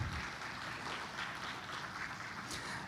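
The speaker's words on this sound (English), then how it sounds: "May I please have a big round of applause to this side event." Audience applause at a G20 development working group side event on decarbonization policy comes as a steady, distant wash of clapping, fairly faint and even throughout, with no one speaking over it.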